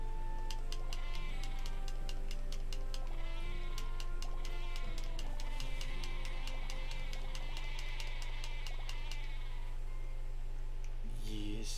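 Animated goat bleats repeat over a looping farming video game soundtrack with steady ticking clicks, fairly quiet and continuous.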